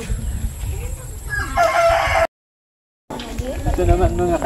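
A rooster crows loudly nearby, its call briefly cut off by a gap of silence, then resuming amid clucking and someone talking.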